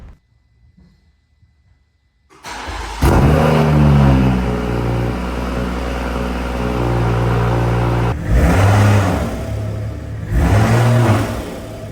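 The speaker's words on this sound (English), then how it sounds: "you can actually hear the turbo spooling on a free rev" After a brief quiet start, the B58 engine of a BMW M340i roars to life and free-revs repeatedly, rising and falling, with a whirring turbo spool audible under the engine noise.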